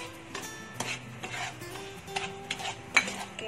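A spoon stirs salt into a sugar mixture for patupat, a sticky rice treat, producing close, irregular scraping and clinking against the bowl in quick strokes.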